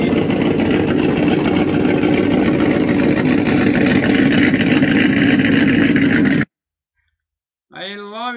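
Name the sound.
Ford Mustang engine idling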